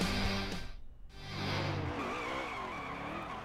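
A race truck does a burnout in NASCAR Heat 3: loud, continuous tire squeal and screech over a roaring engine, sustained throughout with a brief dip near the start.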